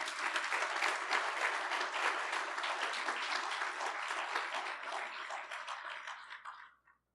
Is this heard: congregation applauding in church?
yes